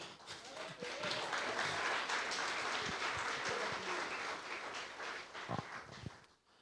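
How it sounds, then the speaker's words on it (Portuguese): A church congregation gives a round of applause, a steady, fairly distant wash of clapping that holds for several seconds with faint voices underneath before cutting off abruptly near the end. "Salva de palmas ao Senhor."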